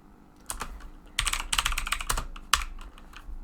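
A computer keyboard typing a last name into a search field, heard as close, crisp clicks in quick irregular bursts, with a sharp louder keystroke near the end and no talking.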